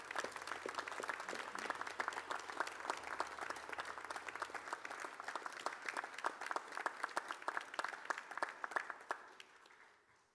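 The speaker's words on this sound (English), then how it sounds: "join me in a vigorous round of applause" Graduates, family and friends at a James Cook University graduation ceremony in Cairns break into vigorous applause, a dense sustained clapping crowd that holds for about nine seconds before fading out.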